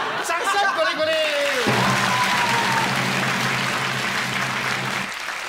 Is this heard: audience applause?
yes